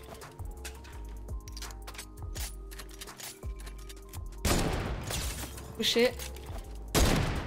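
Rapid bursts of gunfire from a shooter video game ring out in repeated volleys, with loud blasts toward the end and a player's voice speaking briefly over the shots.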